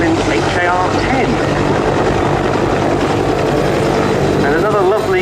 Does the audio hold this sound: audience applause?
no